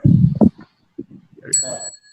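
A single clear bell rings out as a signal during an online sutta study session, its bright tone sustaining after a burst of nearby voices and rustling.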